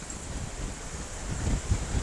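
Strong wind buffets the microphone in low rumbling gusts, a constant rushing noise with heavier thumps toward the end.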